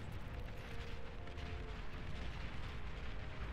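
Light artillery vehicles firing in the strategy game Beyond All Reason, a dense, continuous rumble of booms and blasts that stays loud and unbroken throughout.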